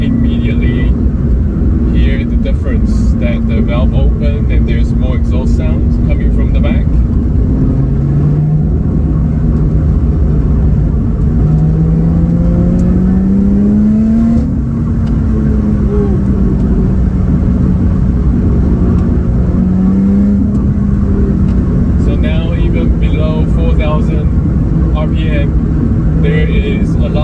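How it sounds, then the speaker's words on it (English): A supercharged V6 in a Lotus Exige drones steadily with its exhaust valve open, the engine note rising and falling in pitch over nearly half a minute while people talk over it. "you can immediately hear the difference that the valve opened and there's more exhaust sounds coming"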